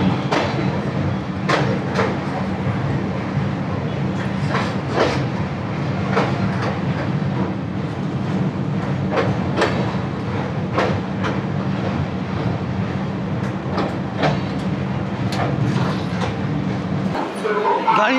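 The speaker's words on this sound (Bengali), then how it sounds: "গাড়ি এসে থামলো" A passenger train draws into platform 4 at Bhubaneswar station, a steady rolling rumble with repeated sharp clacks of wheels over rail joints, fading toward a halt, while people talk nearby.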